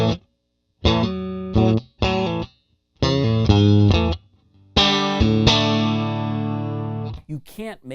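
A Vola Zenith electric guitar on its single-coil bridge pickup plays bright, biting strummed chords in short bursts with gaps between, ending on a long sustained ring, close and loud.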